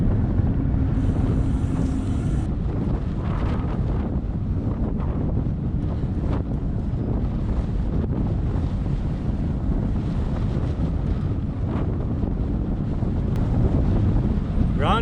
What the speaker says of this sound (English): There's that wind.